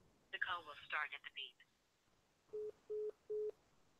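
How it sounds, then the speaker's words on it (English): Three steady electronic beep tones on a phone line, each about a quarter second long and evenly spaced, coming in at a moderate level. Someone talks before them on a live college football call-in show. "The call will start at the"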